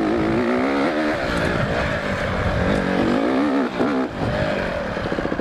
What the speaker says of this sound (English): Even though I'd rather not be riding this race bike up here.